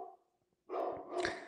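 A pet dog barks at someone at the door, two short, sharp barks after a brief quiet pause, near and fairly clear, with no voices.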